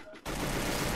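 Rapid automatic gunfire erupts abruptly after a brief quiet moment in the Free Fire battle royale game during a tournament match, a loud, dense burst that continues to the end.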